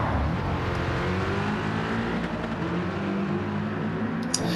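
A Mercedes AMG race car in Gran Turismo 7, its engine droning steadily under load with slight pitch shifts as it accelerates, loud and continuous without any talk.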